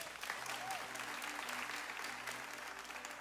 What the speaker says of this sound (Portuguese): o Pastor Eric, vamos aplaudir ele mais uma vez?